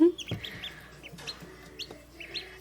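An Americana rooster clucks in a backyard, a few short separate clucks and chirps spread across the moment, fairly close and quiet with no talk.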